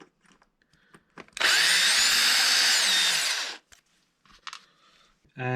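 A power screwdriver drives small screws into the hub of a Traxxas X-Maxx 8S RC truck, making one close, steady whir of about two seconds. Light handling clicks come before and after it.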